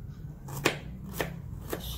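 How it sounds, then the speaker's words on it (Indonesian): Knife slicing garlic and shallots on a cutting board, three crisp cuts spaced about half a second apart over a low background hum. "Ini kita iris-iris bawang putih, bawang merah."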